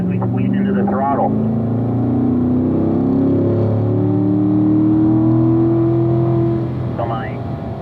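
A Corvette Grand Sport accelerates out of a track corner, its engine note climbing in a strong, sustained drone, with a voice talking briefly at the start and near the end.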